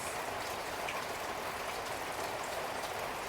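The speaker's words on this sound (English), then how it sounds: "I love when it rains" Rain falling steadily outside windows in Bali, a soft continuous hiss of drops that stays even and fairly faint throughout, with no voices.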